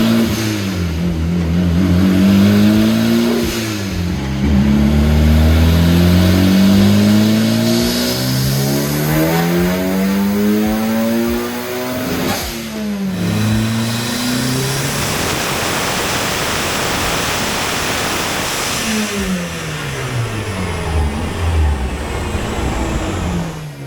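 A high-compression turbocharged 1.6-liter Mazda Miata engine revving hard on a dyno, climbing through repeated pulls with rising pitch and rushing turbo and exhaust noise, loud and close throughout.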